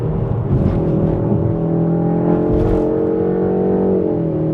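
A BMW 520i four-cylinder mild-hybrid engine in sport mode hums steadily at high revs, a loud, sustained drone with slight rises in pitch.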